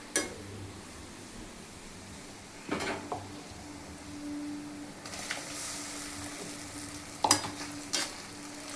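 Onions and tomatoes for a fish curry sauté in a pan, a quiet sizzle under a few scattered clanks and scrapes of the spoon, with a low hum in the background.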